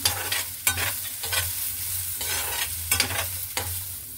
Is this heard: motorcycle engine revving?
no